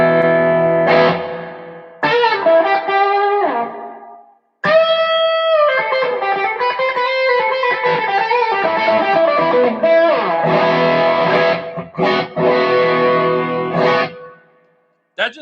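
An electric guitar runs through a 50-watt Marshall head with a touch of spring reverb and no overdrive pedals, playing bright ringing chords and short melodic phrases in bursts separated by brief pauses.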